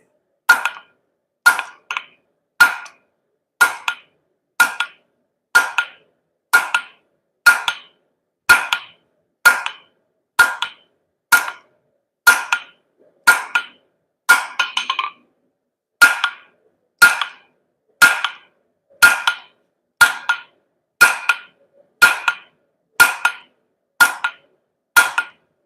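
A four-pound hammer strikes metal on an anvil in a steady even rhythm, about twenty loud ringing blows each roughly a second apart, close and alone with a short pause midway.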